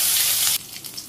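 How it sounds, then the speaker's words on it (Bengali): Cumin, onion and green chili fry in hot oil, giving a loud, bright sizzle for half a second that then drops abruptly to a quieter, uneven crackle. "তেল দিলাম, একটু জিরে, পেঁয়াজ, কাঁচামরিচ,"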